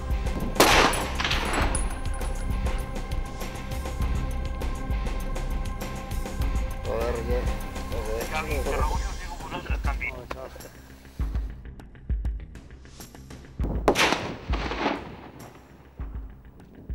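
A hunting rifle fired in the Montserrat mountains during a stalk of a male wild goat: a sharp report rings out early, with a second loud crack later, amid outdoor background noise.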